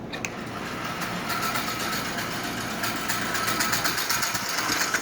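A Marx 1666 toy steam locomotive with slope-back tender runs with its clacker fitted, giving a steady, close mechanical whirring rattle with fine rapid ticking, continuous and fairly loud with no voices.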